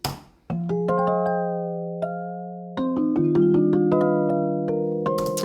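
A gentle plucked melody of bell-like notes, slightly warbling and detuned by a 45 RPM off-center plugin, ringing out alone with overlapping sustained tones.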